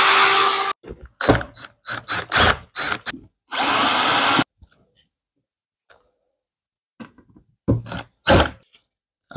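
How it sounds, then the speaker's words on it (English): A power drill bores a pilot hole in steel for an adjustable metal gate frame, several loud grinding bursts with pauses and a few faint ticks between them. "Just a pilot drill for this one."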